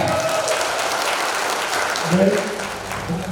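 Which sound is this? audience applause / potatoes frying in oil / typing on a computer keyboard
audience applause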